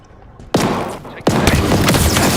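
Rocket explosions in the Halo Infinite video game, two heavy booming blasts about a second apart, the second followed by sustained rumbling debris and gunfire-like noise, loud and close.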